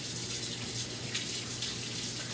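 Steady running tap water splashing over hands, a continuous close hiss with no talking.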